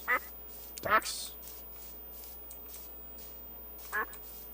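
Ducks on a lake in the video game Minecraft give a few short quacks, one near the start, a cluster around the one-second mark and another near the end, with quiet gaps between.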